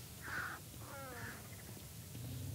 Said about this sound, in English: Get on the bird.